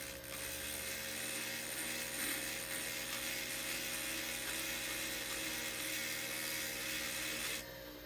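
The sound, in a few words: flexshaft tool grinding off excess solder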